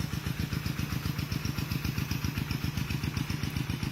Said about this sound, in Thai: ก็สูบน้ำวนไปนะคะ สูบน้ำวนไปค่ะ